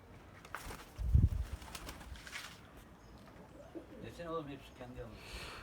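Dönek pigeons coo softly inside a coop, with a few low throaty calls and some faint chirps, and a brief bump or flutter near the start. The sounds stay fairly quiet against a background hum.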